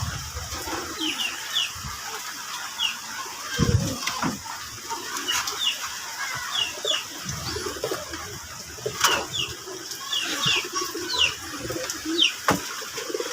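Pigeons cooing softly and repeatedly in a loft during rain, a steady wet hiss behind them with occasional wing flaps and thumps, birds close by and no voices.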